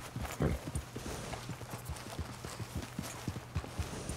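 Steady clip-clop of horse hooves walking at a relaxed, even pace in the video game Red Dead Redemption 2, close by, with a low constant hum underneath.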